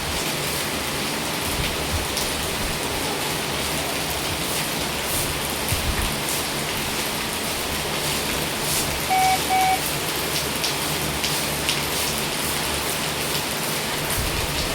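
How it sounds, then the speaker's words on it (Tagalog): Heavy rain falling near a creek with mountains beyond, a dense, steady hiss of downpour on surfaces that fills the whole stretch evenly and loudly, with no voices. "Still raining there at the mountains"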